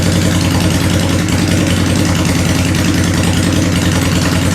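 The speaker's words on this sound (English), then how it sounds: "we're going to let the idle settle down." Honda engine idling, a loud, steady, close-up rumble with an even pulsing rhythm throughout and no talk.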